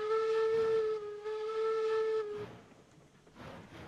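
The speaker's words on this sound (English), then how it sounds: "Two whistle blasts." A steam locomotive whistle in the video game Railroads Online gives two loud, steady chime blasts, the first long and the second after a brief dip, then falls away into soft hissing.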